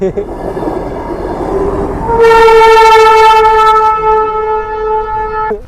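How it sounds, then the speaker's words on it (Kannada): A train rumbles past nearby, then a loud sustained horn blares for several seconds before cutting off. "ಟ್ರೈನ್ ನೋಡ್ರಿ ಹೆಂಗೈತಿ"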